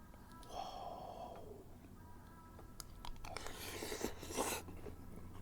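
Soft, close chewing and crunching of a mouthful of Vietnamese grilled pork with noodles, lettuce, mint and cucumber, faint and wet, with a sniff or breath between bites.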